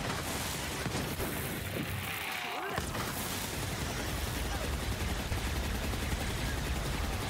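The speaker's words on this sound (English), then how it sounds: "a couple of his shots were absorbed by the shield" Rapid gunfire in the video game Borderlands 3, dense continuous shooting and impacts heard alongside a shield absorbing shots, loud throughout with a brief dip early on.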